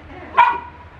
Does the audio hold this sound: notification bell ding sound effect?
no